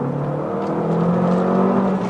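A Vauxhall Astra SRi accelerating, heard from inside the cabin as a smooth, fairly quiet engine hum whose pitch rises steadily over about two seconds.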